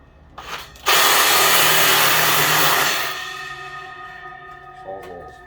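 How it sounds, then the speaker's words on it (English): Sawzall reciprocating saw cutting through a metal railing: a loud, steady buzzing whine starts abruptly after a brief lead-in, holds for about two seconds, then fades off into a lingering hum. "I use a Sawzall."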